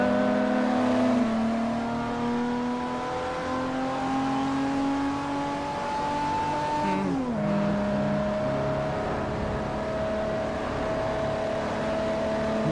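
A DeLorean engine drones steadily while racing in Forza Motorsport 4, holding a sustained revving tone that rises, dips at a gear change, and carries on loud and close with no voices.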